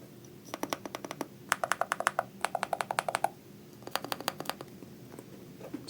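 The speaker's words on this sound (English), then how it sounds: "Also listen to the sound of the keys." Close, crisp typing on a Hator Skyfall 80 MAG keyboard with magnetic switches, quick bursts of light clacking keystrokes in uneven rhythmic runs separated by short pauses.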